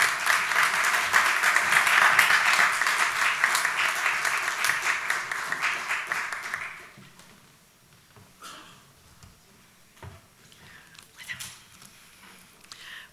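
An audience at a conference session on Global South leadership and the Green New Deal claps loudly for several seconds. The applause then fades into scattered claps and room noise.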